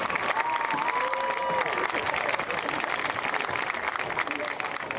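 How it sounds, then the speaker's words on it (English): Crowd clapping and cheering continuously at a varsity football homecoming game, a dense wash of applause with a faint whistle or voice rising briefly near the start. "let's give one last round of applause"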